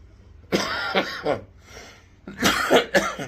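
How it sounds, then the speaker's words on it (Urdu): Several harsh coughs close to the microphone, two in a quick burst, a pause, then a louder pair of coughs with throat clearing. "میرے کو بھی کھانسی آتی"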